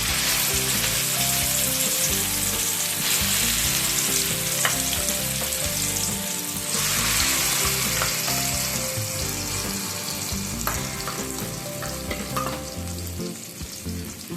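Ground prawn paste and spinach fry in hot oil tempered with black cumin, making a loud, dense sizzle that runs steadily and close throughout, with stirring noises and no speech.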